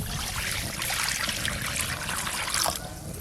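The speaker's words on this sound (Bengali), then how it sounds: "ডাল সেদ্ধর জন্য কড়াতে জল দিয়ে দেব" Water pours steadily into a wok to boil lentils, a dense continuous splashing rush that stays fairly loud for a few seconds before easing off near the end.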